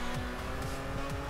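Racing cars in Forza Horizon roar steadily through a short burst, with recurring low engine sweeps and a continuous motor hum, moderately loud and without speech.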